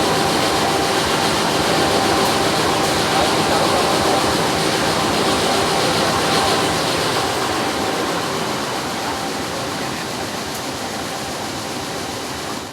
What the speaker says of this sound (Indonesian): ini kereta api Srelo yang tujuan ke Kertapati sudah berangkat